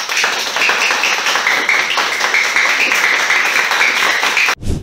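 Audience applause for a school bird-watching project award at Güneşli Ortaokulu, steady dense clapping from a room full of people, loud and even throughout before cutting off abruptly at the end.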